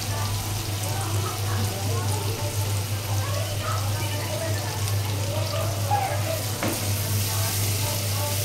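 Potatoes, onions and green chillies fry with ground coriander, turmeric and cumin, giving a continuous close sizzle with stirring scrapes under a steady low hum, no one talking.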